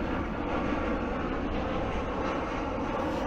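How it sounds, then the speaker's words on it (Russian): A Ryanair airliner passes overhead on a Sunday, a steady broadband engine roar that holds loud and even throughout, with no talking. "Тут у меня полет самолетов в воскресенье."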